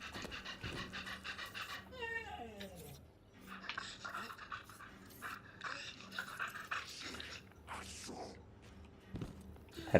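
A dog pants nearby in quick rhythmic bursts, fairly faint, mixed with soft scraping and shuffling sounds and short gaps between bouts.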